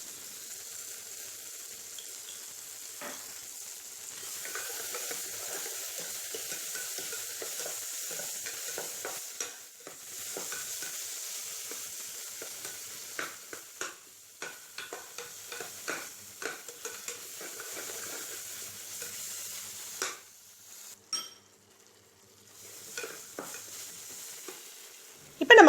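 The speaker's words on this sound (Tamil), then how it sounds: "இப்போ தக்காளிக்கு தேவையான அளவு உப்பு சேர்த்து நல்லா மசியே வதக்கிடலாங்க." Tomatoes sautéing with salt in a pan for a mutton keema nombu kanji, with steady stirring scrapes and a soft sizzle running throughout, close and moderately loud with no talking.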